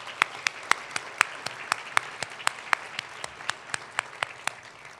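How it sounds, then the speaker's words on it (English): An audience at a charity breakfast event applauds the sponsors, a short round of claps with distinct hand claps popping out at a steady pace over the crowd. "one more round of applause for those sponsors"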